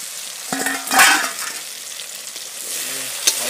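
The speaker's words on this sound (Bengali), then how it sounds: "এটাকে সুন্দর করে লবণ আর হলুদ দিয়ে ভেজে নিয়ে নামিয়ে নিতে হবে।" Tomato chutney with salt and turmeric fries in a pan while being stirred, soft sizzling broken by stirring scrapes and a brief hum-like voice sound.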